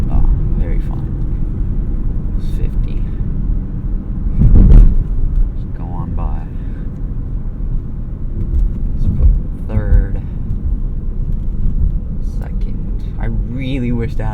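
2017 Dodge Charger V6 accelerating from a rolling start with a gear shift, heard from inside the car as a loud, steady engine drone with a brief surge, while a person talks over it.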